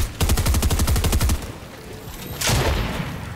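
A player sprays a rapid machine-gun burst in a competitive video game duos match: a close, loud string of evenly spaced shots lasting over a second, followed after a pause by a single burst of noise.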